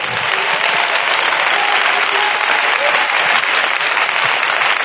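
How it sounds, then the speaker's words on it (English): Church congregation clapping hands in praise, a dense, loud, continuous round of applause from many people, steady throughout with no talking heard. "Oh, clap your hands and give God praise."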